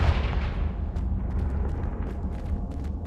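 Confringo blasting spell in Hogwarts Legacy: a heavy, rumbling explosion that starts loud and slowly decays, followed by faint crackles and debris pops as it fades.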